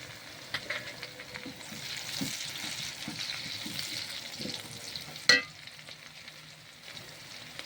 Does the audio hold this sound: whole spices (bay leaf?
yes